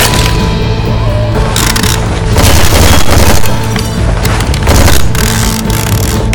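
Dense, continuous gunfire and cracking bangs in Left 4 Dead 2 fill a loud, unbroken wall of noise with no pauses, the shots packed tightly over a booming low rumble.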